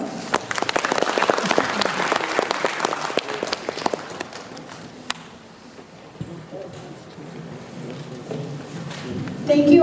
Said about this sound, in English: Please have a big hand of applause.